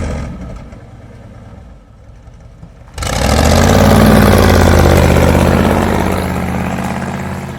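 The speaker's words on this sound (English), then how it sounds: "Will it do a burnout? Oh yeah." A 1951 Cadillac rat rod lowrider with holed headers idles low and rough, then suddenly bursts into a loud, sustained high-revving roar as it does a burnout, holding steady at full volume to the end.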